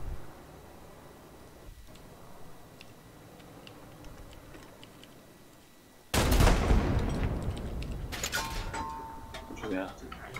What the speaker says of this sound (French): j'ai tiré un obus dans la tranchée